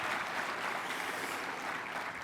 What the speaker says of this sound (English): can you give these guys a round of applause for a major investment in our community?